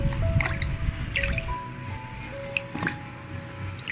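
Water drips and splashes in a basin while pooja vessels are washed, with small irregular drops and soft trickling close by and fairly faint.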